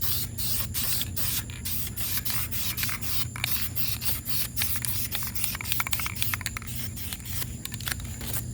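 Clear coat paint sprayed onto the face of a 2004 Saturn VUE Redline wheel during refinishing, a steady hiss broken by short repeated bursts under a low constant hum.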